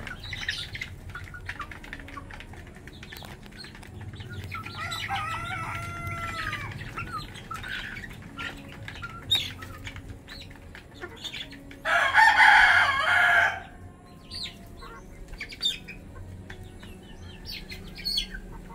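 Roundhead, sweater and Gilmore gamefowl roosters crow and cluck in a yard, several birds at varying distances, with one loud close crow standing out partway through amid scattered squawks.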